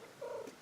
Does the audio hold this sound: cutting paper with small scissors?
no